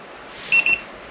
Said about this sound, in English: It just beeped.